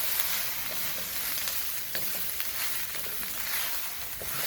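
Garlic hibachi fried rice frying in a well-seasoned wok, a bright constant sizzle broken by intermittent scrapes and taps of a spatula, close up with no talking.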